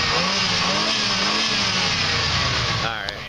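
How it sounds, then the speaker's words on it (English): Station wagon engine revving loudly and steadily, a dense mid-range roar with rising and falling harmonics held close for the whole stretch, easing off near the end. "Give it a couple revs."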